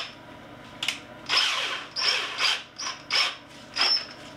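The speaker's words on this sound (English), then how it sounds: "I'm gonna do the stop drilling with a finer drill" A fine drill bores stop holes at the ends of cracks in a cracked shower pan, whirring in five or six short bursts separated by brief pauses, close and fairly loud, with no voices.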